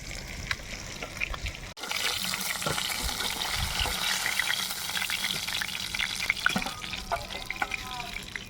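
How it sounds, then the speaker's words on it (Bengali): Whole cumin seeds crackle in oil left over from frying rui fish, making a strong continuous sizzle with sharp pops and occasional stirring clatter close by. "ফোড়নে দেব গোটা জিরে, আর মাছ ভাজার যেই তেলটা ছিল সেই তেলেই কিন্তু ফোড়ন দিয়ে দিয়েছি"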